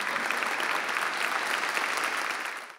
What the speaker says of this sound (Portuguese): no final, recebeu muitos aplausos e elogios